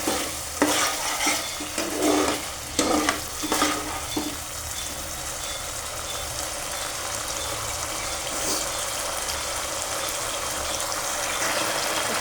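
Spiced masala frying in a pan for a soybean and potato curry, stirred with a utensil in a burst of scraping strokes, then a steady loud sizzle as a little water hits the hot pan and keeps bubbling.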